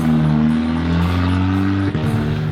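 A race car driven by a first-time driver on a track lap drones loudly and steadily up close, its engine pitch holding then briefly dipping with a shift before rising again.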